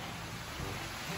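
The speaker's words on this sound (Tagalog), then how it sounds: "Oh, lakas ng ulan." Heavy rain pours down in a dense, steady, loud hiss with no pauses, filling the whole short stretch.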